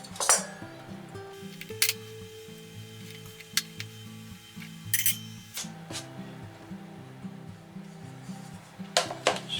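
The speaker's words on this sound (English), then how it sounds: "Get our egg slicer." An egg slicer cuts through eggs in a home kitchen, making scattered light metallic clinks and taps at close range over a soft tonal background hum.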